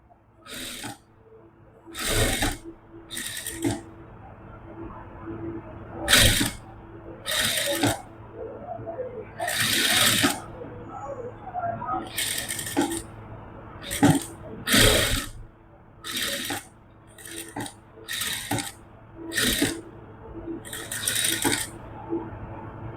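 A sewing machine stitches a kurta in short, separate bursts of clattering mechanical whirring with pauses between runs, close and without talk.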